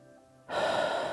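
A single deep inhale through the nose during a yoga breathing exercise, starting abruptly after a quiet pause and sustained as a close, airy rush.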